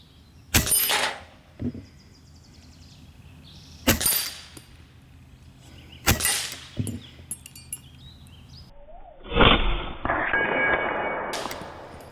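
Shots from an Evanix Max Air II regulated PCP bullpup air rifle crack sharply several times, each followed by a metallic target smack, with a final louder impact and some rattling, heard close up with no talking.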